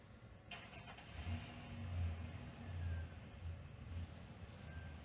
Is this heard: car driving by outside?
yes